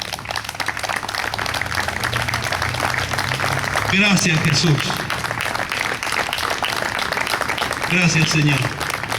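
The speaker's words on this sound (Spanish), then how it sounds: "Denle un fuerte aplauso al que vive y reina." A church congregation applauds steadily through the stretch, a dense wash of clapping from many hands, while a voice speaks over it twice in short phrases.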